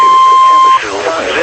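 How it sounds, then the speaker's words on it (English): NOAA weather radio warning alarm tone of an EAS signal, a loud steady single-pitch beep held for under a second, then cutting to a synthesized voice speaking over a broadcast. "This is a test of the NOAA weather radio warning alarm and EAS signal."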